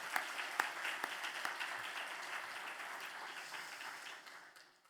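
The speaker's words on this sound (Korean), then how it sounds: "우리 그들에게 우리 힘찬 격려의 박수 한번 보내주시기 바랍니다" Church congregation at a Holy Week special dawn prayer meeting applauding students, a broad rush of clapping with a few sharper claps near the start that slowly fades toward the end.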